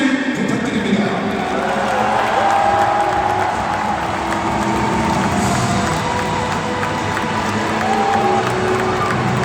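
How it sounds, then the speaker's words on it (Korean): Stadium crowd at Seoul World Cup Stadium cheering and applauding during a ceremony honouring a footballer's record 137 international caps, a dense, sustained roar with scattered whoops and shouts, voices blending into the wash throughout. "관중 여러분, 두 레전드에게 뜨거운 박수를 부탁드립니다."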